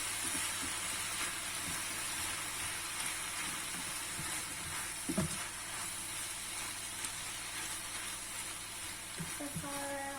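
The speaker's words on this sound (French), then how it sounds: "On fait revenir donc notre thon avec l'oignon." Tuna and onion frying together in a pan, a steady broadband sizzle that runs throughout at moderate level, with a few faint knocks and stirring sounds.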